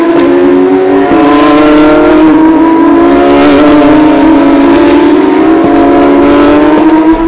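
A Porsche 911 GT3 Cup race car's six-cylinder engine, rated at 485 horsepower, roars loud and close with a sustained high-revving drone and small shifts in pitch throughout.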